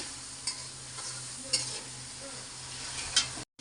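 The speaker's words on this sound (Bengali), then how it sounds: "দেখো কিভাবে ভাজছি, একদম তেল শিরায় শিরায় ঢুকে গেছে।" Green chillies fry in oil with a soft, constant sizzle, while a spatula stirs them with three sharp scrapes at roughly even intervals before the sound cuts off abruptly.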